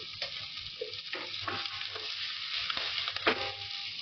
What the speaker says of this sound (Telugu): తర్వాత ఉల్లిపాయలు వేసేసుకుంటున్నా.